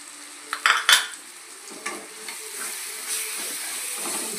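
Chicken fries in oil with chicken masala while being stirred. A few sharp metal scrapes and clinks of a utensil against the pan come first, then a steady, soft sizzle continues underneath with occasional light stirring noises.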